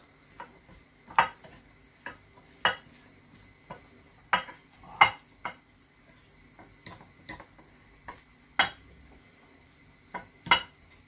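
A spoon stirs a mackerel and tuna fish cake mixture in a bowl, giving a quiet, irregular series of sharp clicks and taps, roughly one or two per second, close by with little else around.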